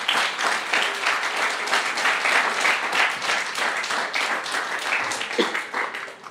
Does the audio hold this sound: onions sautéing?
no